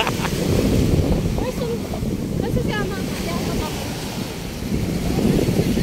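Sea waves wash onto a dolomite sand beach on Manila Bay, a steady broadband surf roar with wind buffeting the microphone, while people chatter and children's voices are heard over the water throughout.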